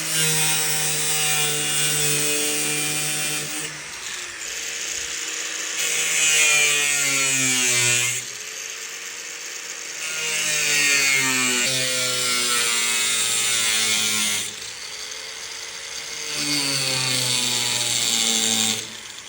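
Power tool cutting through wood to enlarge openings for Gozney Dome gen 2 ovens inside a pizza truck, running in long loud stretches with brief pauses and pitch dips as it bites, nearby with no talking.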